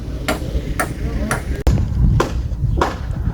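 Construction workers hammer at a house building site, repeated sharp metallic strikes spaced about half a second apart over a steady rumble of background noise.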